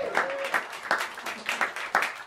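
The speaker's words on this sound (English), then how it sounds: "please give a big round of applause to Emmanuel Bassantini" Clapping from a small jazz club audience at Smalls greets a quintet's guitarist being introduced, coming in scattered, uneven bursts of moderate loudness rather than a sustained roar.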